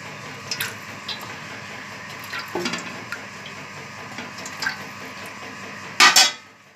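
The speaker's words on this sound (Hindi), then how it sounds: "पहले हम प्याज़ों को ब्राउन करेंगे। 4 चम्मच हम इसके अंदर ऑयल शामिल करेंगे।" Onions browning in oil in a pot for vegetable pulao, a quiet steady sizzle with scattered scrapes and clinks of a spoon stirring, ending in a sharp loud metallic clatter.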